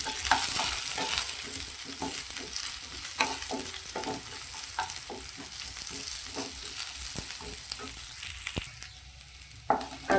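Onion frying in oil in a pan while coconut is being roasted for a Maharashtrian vatana dal, a steady close sizzle with intermittent stirring scrapes throughout, no talking.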